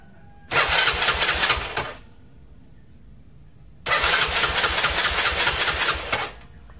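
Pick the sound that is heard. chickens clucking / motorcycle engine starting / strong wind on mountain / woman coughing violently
motorcycle engine starting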